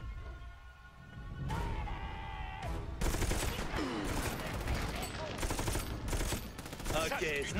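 Gunfire in the video game Army of Two during a sniper fight, with rapid bursts of automatic shots and fusillades starting after a quiet opening and repeating loudly to the end.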